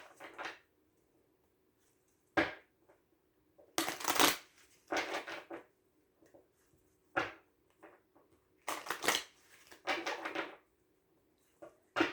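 Tarot cards are shuffled in short, crisp bursts of riffling and flicking close by, separated by quiet gaps, with several sharper snaps.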